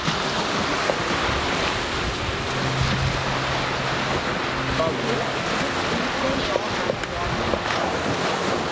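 Ocean surf rolls onto a beach in a steady, dense wash, with constant wind buffeting the microphone and a faint voice now and then.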